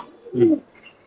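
A Giribaz pigeon kept at home gives a single soft, low coo, heard close and alone against a quiet background.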